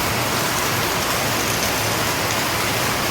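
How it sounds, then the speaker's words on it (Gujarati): Steady rain falling in a village, a dense, even hiss of drops on surfaces that stays constant and fairly loud throughout with no voices. "હવે થોડો પડે છે વરસાદ"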